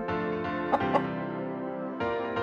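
Chickens cluck steadily at close range, one black and white among them, with a couple of sharper squawks breaking the run of calls and no voices over them.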